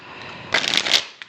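Deck of tarot cards being shuffled by hand, one quick riffling burst of papery flutter lasting under a second, close and clear, followed by a brief tap.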